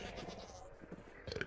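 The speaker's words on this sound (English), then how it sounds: "Maybe I should start taming up the goats as well" Goats bleating in a video game, a few short nasal calls rising near the end over a busy, low-level background of game ambience.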